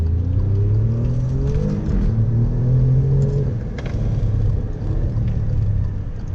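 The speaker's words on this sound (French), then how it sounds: "Le bruit les passages de vitesse est vraiment magnifique." An Alfa Romeo Giulia Quadrifoglio engine pulls hard with a deep, loud rumble, its pitch climbing through the revs and dropping at gear changes, with a few sharp crackles over the steady drone.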